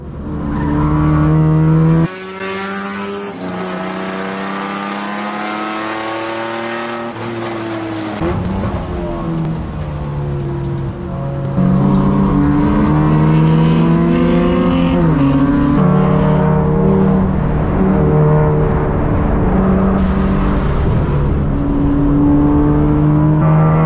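Race cars lapping Gingerman raceway in a 24 Hours of Lemons endurance race, engines roaring loudly and continuously with revving, shifting pitch as cars accelerate and pass close by, no talk.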